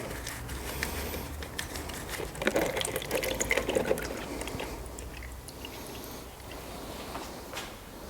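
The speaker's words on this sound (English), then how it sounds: "We drained this unit and we drained exactly 1 liter" Fluid drains out of a DSG gearbox unit, an irregular liquid trickle and splatter that swells in the middle and then stays faint and close.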